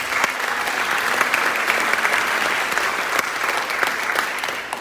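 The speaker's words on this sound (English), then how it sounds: "Let's give them a round of applause." Sustained audience applause at a Wallace Middle School band concert in Kyle, Texas, a dense, steady wash of clapping filling the hall for several seconds with no break.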